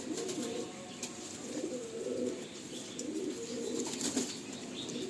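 A pigeon in a loft of birds for sale flaps its wings in repeated close bursts while being held, with soft coos and a few chirps mixed in.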